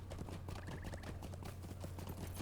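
Horse hooves clip-clop in a steady, brisk rhythm in the Lord of the Rings Online game during its spring festival, close and continuous over a low hum, with no talking.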